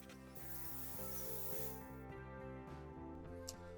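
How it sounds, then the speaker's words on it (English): A steady, close hiss of spray paint sprays onto a 1961 Lesney Matchbox Bedford Tipper model outdoors on a back veranda, continuous for a few seconds with a faint low hum underneath. "a little demo of my spray painting"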